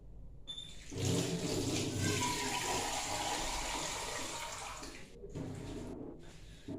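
Water poured into a cooking pot of lentils, a steady splashing pour lasting several seconds, fairly close and moderately soft, with short pauses near the end.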